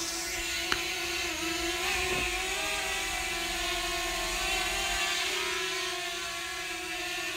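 A DJI Mavic Mini drone hums with a steady, high-pitched whir that shifts slightly in pitch as it comes in to land, close by and heard with no talk over it.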